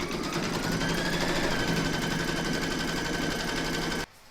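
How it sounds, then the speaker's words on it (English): An embroidery machine stitches the placement outline for coaster batting with a rapid, steady mechanical chatter, loud and close, running continuously for about four seconds before cutting off abruptly. "then you're going to stitch round number 1, and that's going to give you your placement outline for your batting."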